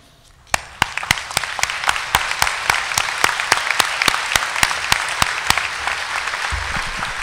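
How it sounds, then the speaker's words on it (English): Applause at a GED graduation ceremony starts suddenly and builds into a thick spread of clapping from the audience, punctuated by a regular series of loud, sharp close claps from one pair of hands. "give the whole staff of the GED program a hand of applause"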